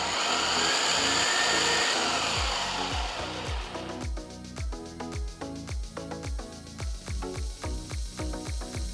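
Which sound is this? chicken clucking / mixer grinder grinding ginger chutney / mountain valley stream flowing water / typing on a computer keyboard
mixer grinder grinding ginger chutney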